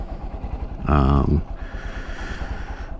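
A 2023 Honda XR150L motorcycle engine idling with the choke midway, a low steady putter with a brief louder rev surge in the middle, close by with no talk.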